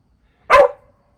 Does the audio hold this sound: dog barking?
yes